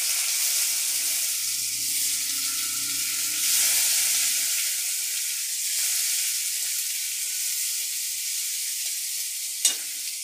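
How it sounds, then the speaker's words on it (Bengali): Chopped ginger and onion fry in a pan with a steady, bright sizzle, alongside occasional stirring and a sharp clink near the end, and no talking. "পেঁয়াজটা একটু ভাজা ভাজা হোক।"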